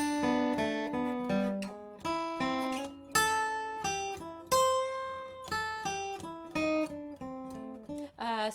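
An acoustic guitar plays a quick bluegrass lick from a guitar solo, a rapid run of bright picked single notes leading toward the five chord, clear and close with no talking.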